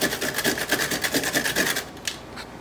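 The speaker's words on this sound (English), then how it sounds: "But we're going to grate it on the same one, the coarse side." Celery rasps across the coarse side of a metal grater in quick, even back-and-forth strokes, about five per second, loud and close, then stops with a couple of light knocks.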